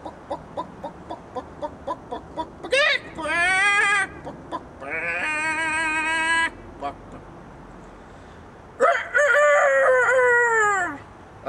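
A person mimics a rooster's crow, drawing out several harmonic, warbling calls after a run of quick clucking sounds, loud and close, with no other voices.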